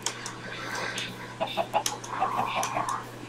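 Chickens clucking in a modded Minecraft survival game, several short soft clucks scattered over a few seconds against a low steady hum, with a player's voice nearby.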